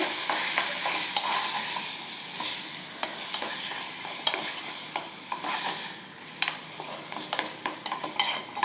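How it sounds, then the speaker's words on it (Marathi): Mashed eggplant bharit frying over a low flame, a continuous close sizzle with regular spatula scrapes and stirs against the pan, steady and moderately loud throughout. "आणि ते वांग मिक्स करून घेऊया याच्यात गॅस बारीकच ठेवायचा आहे व्यवस्थित एकजीव करून घ्यायचं"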